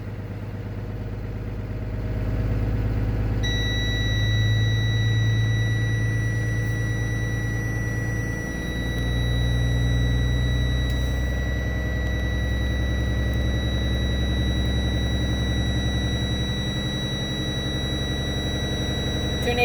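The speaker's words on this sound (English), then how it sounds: "Rev it at 1500 RPM till cutout level." A bus engine revs and holds at about 1500 RPM to rebuild air pressure, giving a steady, loud drone with a constant high warning tone sounding above it.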